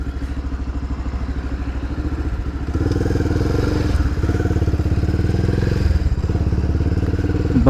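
A fully modded Pulsar 220F motorcycle rides a hill road near Kotdwar and Lansdowne, its engine a close, loud, pulsing thump that rises a step in power partway through and holds steady, with no talk.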